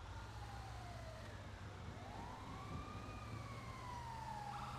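A wailing ambulance siren in the video game GTA 5, its tone sweeping slowly up and down over a steady low engine rumble, loud and continuous throughout.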